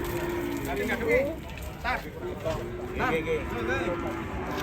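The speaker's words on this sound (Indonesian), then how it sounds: "Sapine ngamuk Pak." An agitated cow on a rampage lets out several loud moos against a busy outdoor background, with people talking excitedly around it.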